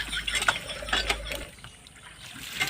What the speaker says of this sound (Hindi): नलका बन गया तोहार। चलाओ।